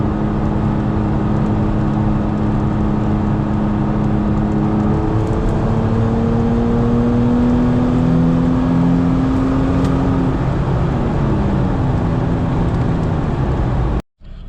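Steady engine drone from a 2017 Toyota Tacoma TRD Off-Road cruising on the highway at 4,000 RPM, about 64 mph, heard from inside the cab with constant road and wind roar and slowly shifting tones.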